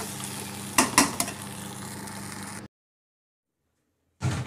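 A spoon stirs soaked arrowroot into a chilli jackfruit dish over a low flame, with a soft sizzle under a few sharp scraping clinks, then a sudden silence before the sizzle returns.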